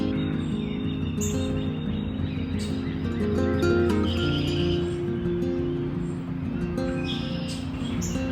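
Small birds chirp around a Midwestern lake, their brief high calls scattered over a steady low hum, with faint rustling in a calm outdoor setting.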